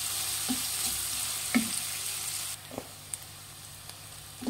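Onions browning in a pan for tomato gojju, a moderate steady sizzle with occasional spoon knocks that drops to a quieter fry partway through, close and without talk.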